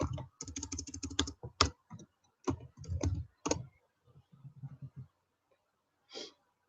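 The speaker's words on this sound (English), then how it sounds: "I'm just going to type it in up here." Someone types on a computer keyboard in short bursts of quick, close clicks and taps separated by brief pauses, fairly quiet and with no talking.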